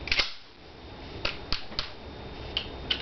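The slide of an M&P pistol being pulled back and released, with a few sharp, close metallic clicks and snaps spaced irregularly and faint handling noise between them.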